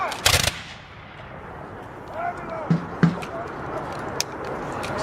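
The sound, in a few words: musket volley fire by 1813 re-enactment soldiers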